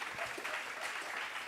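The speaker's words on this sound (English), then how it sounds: "Another round of applause." Town hall audience applause at a community engagement meeting, a faint, distant wash of clapping that stays even for a brief moment.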